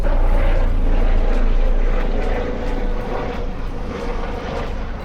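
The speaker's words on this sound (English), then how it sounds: "It's the police helicopter" A police helicopter drones steadily overhead in Croydon with a dense, broadband rotor rumble, loud at first and easing slightly as it continues.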